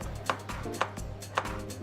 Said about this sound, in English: To maintain the heat, the ingredients need to be chopped first.